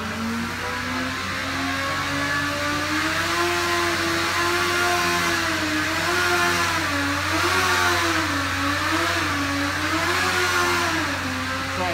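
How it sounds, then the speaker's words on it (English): A 765-horsepower Cosworth XB race engine runs on a dyno, holding a loud, steady high-rpm drone with rising and falling pitch sweeps as the throttle is worked, continuous for the whole stretch with no talk. "You got to drive it around on the dyno a little bit and look for holes."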